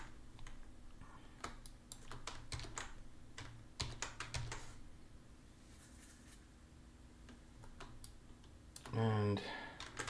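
Computer keyboard typing: scattered, close key clicks in irregular runs, with a faint voice speaking softly underneath.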